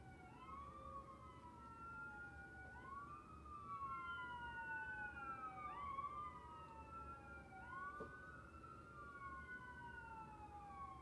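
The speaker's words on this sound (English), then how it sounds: "Do you hear the sirens?" Wailing sirens rise and fall in overlapping sweeps, several emergency vehicles sounding at once over a steady low traffic rumble, moderately distant.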